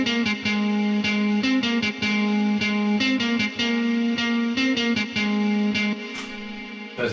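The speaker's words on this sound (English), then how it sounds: "There's a nice guitar." An electric guitar run through distortion, chorus and reverb effects in a music production session plays a choppy, rhythmic riff of short repeated notes that rings out briefly at the end.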